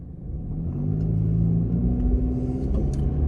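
A car travels along a road with a steady low engine rumble and road noise that swells slightly at the start, then holds even and close from inside the cabin.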